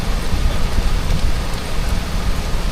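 Steady rain pours down in a dense, even hiss, with a faint low rumble beneath it and no distinct gaps or voices.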